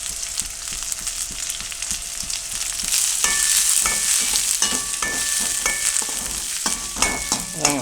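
Onions, crushed garlic and curry leaves sauté in a pan for sambar, a steady close sizzle with rhythmic scraping stirs, growing louder and busier in the second half with sharp spoon knocks.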